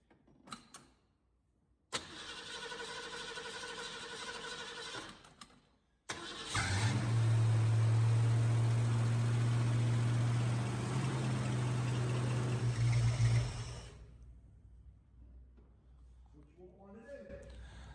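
A 1968 Ford Mustang fitted with a new distributor cranks and catches, then runs with a steady, loud idle for several seconds before shutting off. A briefer engine run comes first, and a voice is heard afterward.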